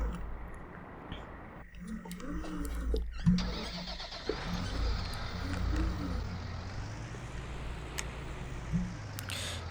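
A vehicle engine in a farming video game starts and then idles with a steady low rumble, moderately loud throughout, with a few clicks and mechanical knocks over it.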